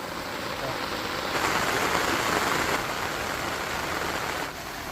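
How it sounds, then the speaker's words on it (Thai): Steady rain falling, a dense even hiss that swells slightly in the middle and then eases, heard alone without talk. "ทำฝนแล้ว"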